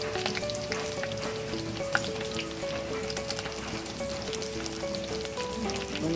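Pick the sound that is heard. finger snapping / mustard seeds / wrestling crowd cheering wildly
mustard seeds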